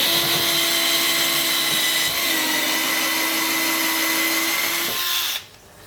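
A cheap electric drill boring a hole in a kayak whines loudly and continuously, its pitch holding level for about five seconds before it suddenly cuts off, leaving quieter room noise.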